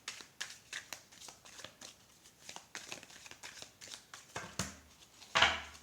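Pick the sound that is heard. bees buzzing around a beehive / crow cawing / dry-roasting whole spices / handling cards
handling cards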